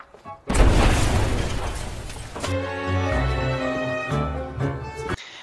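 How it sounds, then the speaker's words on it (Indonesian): A storage warehouse behind a market explodes in a scene from the 2013 film The Family: a sudden heavy boom with crashing debris, followed by a long rumbling tail under tense music. "si penjaga market pun dibuat kaget dengan gudang yang meledak"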